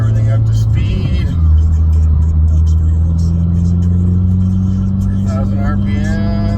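A Mitsubishi Evo X engine revs up from idle inside the car, its drone steadily rising in pitch, with someone talking over it.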